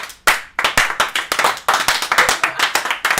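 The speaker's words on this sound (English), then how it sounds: "It's going to be a lot of clapping of ourselves." A small group of people clap together in quick, sharp bursts, individual close hand claps forming an uneven rhythm of loud slaps with brief gaps, no talking over them.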